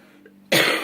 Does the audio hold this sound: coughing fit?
yes